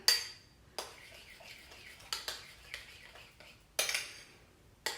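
A spoon stirs moringa powder into oatmeal in a bowl, giving a series of light metallic clinks and scrapes at irregular intervals, fairly close and quiet, with no talk.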